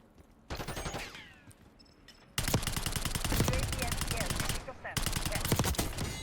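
Rapid automatic bursts from a light machine gun in Black Ops 6, loud and close, with a shorter burst first and then long sustained strings of fire broken by brief pauses.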